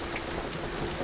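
Rain falls steadily in a game scene, a dense hiss of patter lasting about a second.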